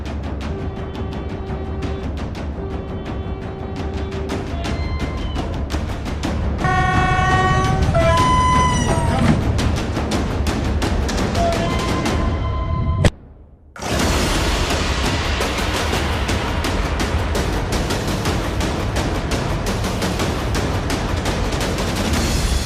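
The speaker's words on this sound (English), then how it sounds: "a demonstration to showcase the consequences of collisions between trains and cars" At a Polish railway crossing demonstration of train–car collisions, a train rumbles in and sounds its horn in several toots. A sudden loud crash follows, then heavy, sustained grinding and clatter.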